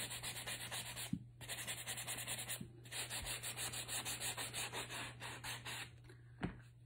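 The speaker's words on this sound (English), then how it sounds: "I'm just gonna sand in that edge a little" The edge of a wooden cutting board is hand-sanded in steady rhythmic back-and-forth rubbing strokes, close and soft, with a couple of brief pauses and small knocks.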